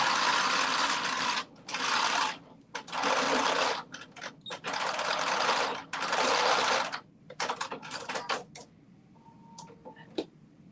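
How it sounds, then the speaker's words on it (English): A sewing machine stitches around curves in bursts of fast, steady mechanical whirring, stopping and starting several times, then giving way to lighter clicks and taps near the end. "I'm going around the curves without stopping."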